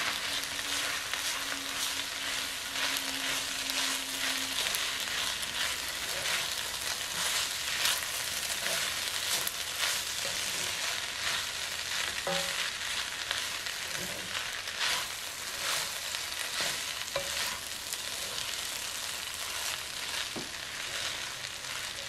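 Rice with pork and vegetables sizzling and frying in a pan while being stirred, a steady crackling hiss with occasional scraping and clinking of the utensil, close and continuous without talk.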